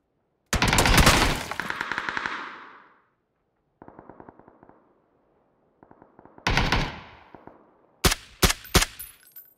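Automatic and single gunshots fire in PlayerUnknown's Battlegrounds, with loud close bursts of rapid rounds, a quieter distant rattling volley, then a few sharp separate shots, separated by silence.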